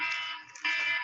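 An alarm going off during a podcast recording, a steady bright electronic tone sounding continuously for about a second with a brief dip in the middle, loud and alone.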